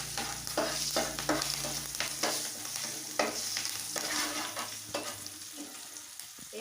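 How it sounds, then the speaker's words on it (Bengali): Cumin seeds and about four green chillies sizzle in hot oil left from frying rohu fish for a Bengali kalia. A steady, close crackling hiss runs throughout, with spatula stirs and scrapes at irregular moments. "এবার একই তেলে আমি জিরে ফোড়ন দেব"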